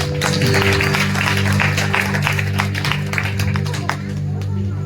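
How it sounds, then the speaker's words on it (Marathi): A congregation at an Ahmednagar thanksgiving church meeting claps together in a brisk, steady rhythm, with sustained tones and voices running beneath the sharp hand claps. "जवळ प्रभूसाठी टाळ्या वाजवा"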